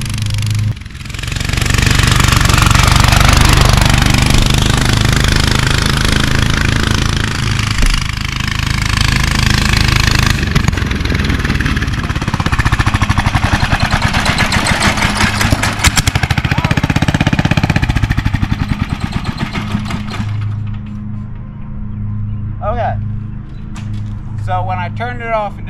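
Homemade racing lawn mower being driven, its small engine roaring loud and rough with wind noise for about twenty seconds, then dropping to a lumpy idle with faint voices at the end.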